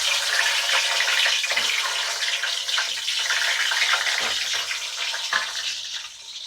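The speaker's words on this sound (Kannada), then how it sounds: "ಈಗ ಇಲ್ಲಿ ಡಬ್ರಿ ಒಳಗೆ ಎಣ್ಣೆ ಕಾಯಕಿಟ್ಟೀನಿ ಈಗ ಡಬ್ರಿ ಒಳಗೆ ಇವನ್ನ ತತ್ತಿ ಹಾಕೊಳ್ಳೋದು" Eggs sizzling in hot oil in a pan, a steady bright crackling hiss with a few louder spits, close and continuous with no talking.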